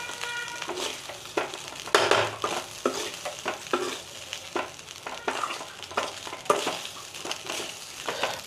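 A spoon stirs cumin rice in ghee in a pan, giving repeated scraping strokes over a light sizzle. The strokes come close and irregular, with no voices.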